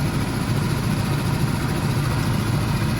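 A turbocharged rotary engine in a Mazda RX7 FC idles steadily in a low, dense rumble that stays even in level throughout, close by, with no talking.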